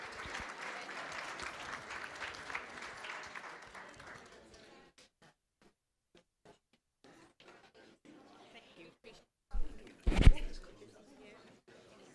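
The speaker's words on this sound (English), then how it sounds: "Let's give them a big round of applause." A room of people at a board meeting applauds for several seconds, then the clapping fades into near silence with a few scattered sounds and a brief burst of talk.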